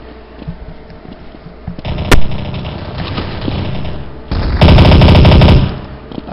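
An MP5 submachine gun fires in the game Counter-Strike: Source, with loud sustained automatic bursts, including a long rapid stream near the end, all up close.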